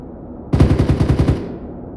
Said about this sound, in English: Bear, we got a BTR autocannon coming in from the south of the objective